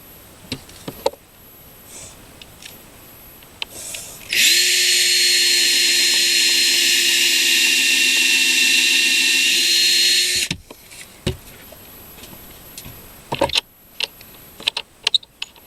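A steady, high-pitched power drill whine as it bores into wood for a nesting box blocker, running about six seconds, with quieter handling clatter and small knocks before and after.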